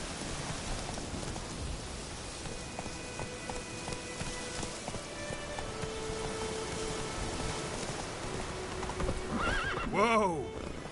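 Roach, Geralt's horse in the video game The Witcher 3: Wild Hunt, clip-clops along under a rain-like hiss, then lets out a loud whinny near the end.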